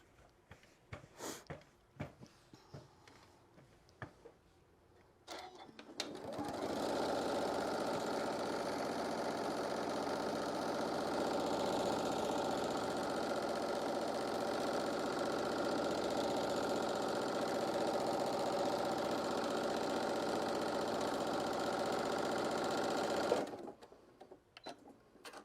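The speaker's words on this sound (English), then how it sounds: "get it under your machine and just get those freeform stitches just sewed" A sewing machine stitches freeform stitches on a shoulder wrap in a steady, continuous run lasting about seventeen seconds, starting and stopping abruptly, close and fairly loud, with scattered handling clicks before and after.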